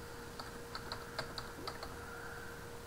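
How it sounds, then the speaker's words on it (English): Keystrokes on a computer keyboard typing a short search into the Windows 8.1 app store, several light, quick clicks in an uneven burst close by, with no talk. "I could type in free cell."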